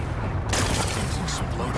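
Rocks blasted apart in Horizon Forbidden West, a dense rumbling explosion with a sharp crackling burst midway, continuous and loud, with speech-like noise mixed in.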